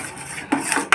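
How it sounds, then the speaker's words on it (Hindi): A metal spoon clinks and scrapes inside a cooking pot while stirring herbal kadha, a home remedy for cold and cough, on a medium flame. Soft scraping gives way to two louder clanks near the end. "बराबर हम इसको थोड़ी थोड़ी देर में इस तरीके से चम्मच की मदद से इसको चलाते रहेंगे"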